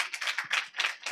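Church congregation at a Sunday Apostolic service clapping loudly in a steady rhythm of about five claps per second, close and continuous.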